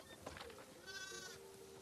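A sheep in The Last of Us Part II gives a short wavering bleat, fairly close and clear over quiet game ambience.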